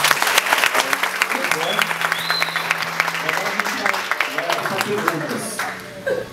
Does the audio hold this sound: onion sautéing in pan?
no